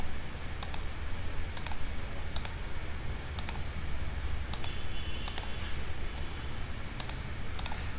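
Sharp, light computer mouse clicks come at a steady, unhurried pace, about eight over several seconds, close by and distinct against a low background hum.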